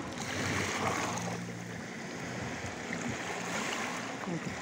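Gentle Baltic Sea waves lap on the shore on a calm, icy day, a steady soft wash of water close by, continuous and moderately quiet with no voices.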